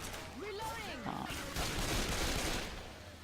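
Gunfire in the video game Left 4 Dead 2, a burst of rapid in-game shots over game sound effects and speech, moderately loud and steady across the moment.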